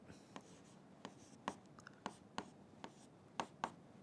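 Marker or chalk strokes on a board while working through maths equations, a series of short sharp taps and scratches spaced irregularly, faint and close, with no talking.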